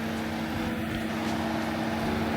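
A BMW engine idling steadily with a low, constant hum and a faint airy whoosh over it, no talking.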